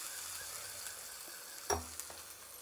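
Hot oil tempering of dried round red chillies, curry leaves and asafoetida poured into a chutney, a faint steady sizzle with one sharp burst as the oil hits, then a brief clink.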